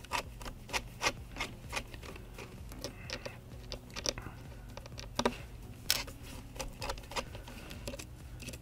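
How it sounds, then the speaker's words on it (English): Small screws are backed out of an iPad main board with a handheld screwdriver, giving soft, irregular ticks and scrapes close up over a faint steady hum. "the next step will be to remove all the screws in the upside"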